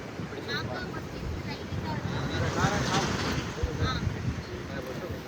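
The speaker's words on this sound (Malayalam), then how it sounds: "ഇവിടെ ഭയങ്കര കാറ്റ് എന്ന് പറഞ്ഞാൽ ഭയങ്കര കാറ്റ്" Strong wind buffets the microphone at a seaside spot in Tamil Nadu, a steady loud rushing roar throughout with faint voices talking under it.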